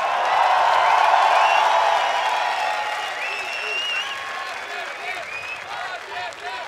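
A concert crowd at a show cheers and applauds loudly, the roar of clapping peaking early and then easing as scattered whistles and shouts continue.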